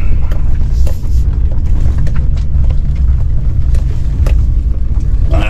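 A car drives toward a spot at a grocery store parking lot, with a loud, close, continuous low engine and road rumble and a few light knocks and bumps, heard without talk.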